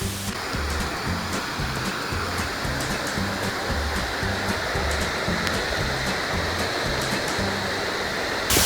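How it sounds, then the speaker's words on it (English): Mount Carmel waterfall in Grenada, heard up close as a loud, continuous rushing roar of falling water that stays steady throughout with no talking. "now we're coming up to the actual like Mount Carmel waterfall"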